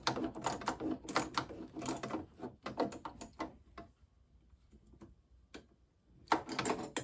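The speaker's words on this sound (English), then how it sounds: "to tighten this clamp, you gotta get a little ratchet and stick down in there to tighten that clamp" A small ratchet tightens a clamp on a diesel heater being assembled, giving quick bursts of close, crisp clicking, then a quiet pause before another short run of clicks.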